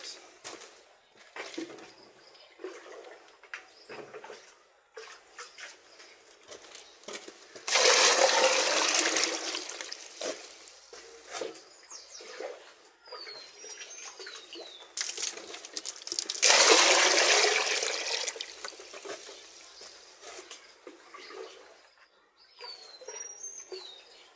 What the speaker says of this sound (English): we will just top up the water to fill this bucket